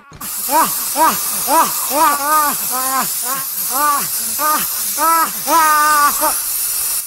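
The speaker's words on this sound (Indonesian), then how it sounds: "Semprot serangga yang ada di dekatnya digunakan untuk membunuh Raffi." Insect spray hisses steadily in a film scene, a continuous airy spray that runs throughout beneath a series of repeated high, chirping tonal calls.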